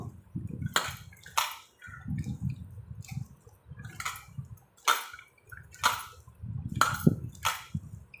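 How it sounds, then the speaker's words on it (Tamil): Wet squishing and squelching of sliced onions being kneaded by hand with salt in their own released juice for pakoda, in irregular bursts of squeezes with quiet pauses between, close up. "இந்த தண்ணியிலையே நம்ம இதை நல்லா பிசைஞ்சிப்போம்"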